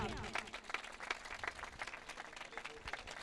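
Audience at a church gathering applauding as a pastor is welcomed onto the stage; scattered, moderately quiet clapping with distinct individual claps and a soft crowd murmur.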